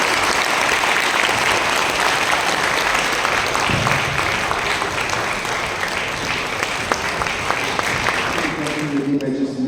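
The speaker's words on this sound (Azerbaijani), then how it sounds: "Gözəl dualarınızı bir daha alqış eləmək istəyirəm." Audience applause at a monodrama performance held at a technical university in Azerbaijan, dense sustained clapping from a crowd filling the room, fading out with a voice beginning to speak at the end.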